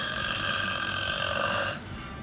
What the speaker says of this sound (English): Loudest burp.